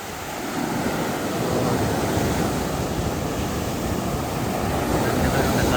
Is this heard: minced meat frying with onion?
no